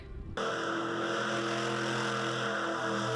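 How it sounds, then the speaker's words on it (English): Monster trucks roar around the track at Lake Erie Speedway, a loud, steady engine drone that kicks in abruptly after a brief quieter moment and holds at full volume with no talking. "this weekend monster trucks are hitting the track"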